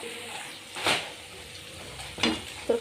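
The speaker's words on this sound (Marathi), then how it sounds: "कांदा लागलाय भाजायला" Chopped onion with a little salt frying in a pan, a low steady sizzle punctuated by a few louder scraping stirs of the spoon, close and quiet, with no voices.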